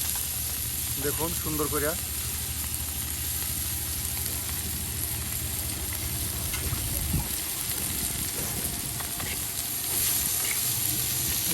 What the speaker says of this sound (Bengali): এই যে এখন পেঁয়াজ রসুন আপনার দিয়ে দেওয়া হইতেছে